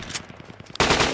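AKM rifle gunfire in Project Reality, a rapid automatic burst of about eight evenly spaced shots, followed by a louder, denser burst of fire.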